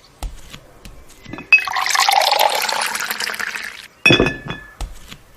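Water pours into a drinking glass, opening with a sharp clink followed by a steady gurgling fill lasting a few seconds, then more clinks and handling of the glass, close and fairly loud.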